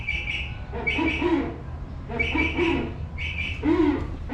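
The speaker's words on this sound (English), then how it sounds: "Oh, look at, you got the owl." An owl sound plays at the Tom Sawyer Island attraction, coming as repeated hooting, squawky bird calls in three bursts over a constant background hum.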